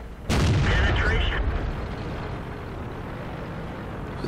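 A single heavy tank cannon shot booms loudly in World of Tanks, with a Panther tank in play, its blast ringing out and decaying into a low rumbling tail of engine and battle noise.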